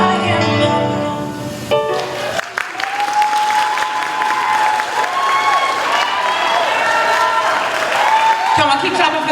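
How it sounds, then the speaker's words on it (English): An audience claps after a dance performance, loud sustained applause with some cheering as the music fades out, while a voice speaks over the clapping near the end. "keep clapping for them as the curtains close"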